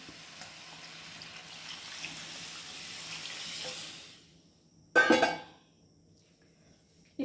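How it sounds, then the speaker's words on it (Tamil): Water poured into a pan of curry masala powder for an oil-free Bakrid curry: a steady soft sizzle fades out, then a short loud splash of pouring comes after a brief near-silent pause. "இப்போ நம்ம அதிலேயே அப்படியே தண்ணி ஊற்றிடலாம்"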